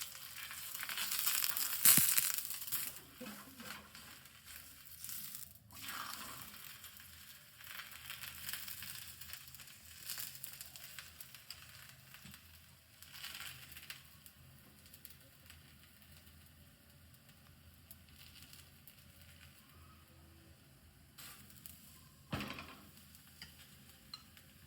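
A thepla flatbread cooking in oil on a hot tava gives a faint, soft sizzle with occasional stirring and crinkling noises, quiet and close, with a louder burst of crackle near the start.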